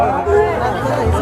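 A dense crowd murmurs at Mandar Hill, overlapping voices blending into a continuous hubbub close around, with no single voice standing clear.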